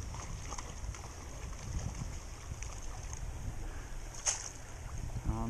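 Gusty wind buffets the outdoors beside a Sierra stream during fly fishing, a steady low rumble with soft rushing water and a brief sharp click near the end.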